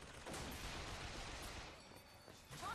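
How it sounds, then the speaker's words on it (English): Turret gunfire in the video game Bioshock Infinite comes as a dense, continuous burst of rapid shots. The firing is mixed with in-game noise and is loud and sustained through the short stretch. "that one will give us a turret and some cover"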